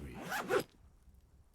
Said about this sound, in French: Un crissement résonne soudain dans l'air tandis que le lieutenant descend la fermeture éclair de son blouson orange